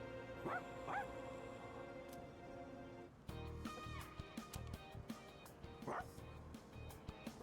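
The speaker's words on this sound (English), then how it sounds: "we're gonna hang out with the best dog." Dog in the video game Moonlite Walks giving soft yips and whimpering barks over a steady hum of game music, with a voice talking in the background.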